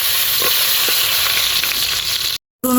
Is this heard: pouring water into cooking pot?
no